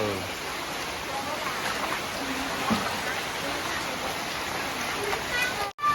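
Steady heavy rain pours over a flooded house yard, a dense continuous hiss with no voices, ending in a brief dropout.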